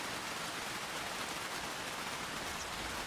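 Rain falls over a farm in Farming Simulator 25, a continuous broadband hiss of drops, even and unbroken for the whole stretch, with nobody talking.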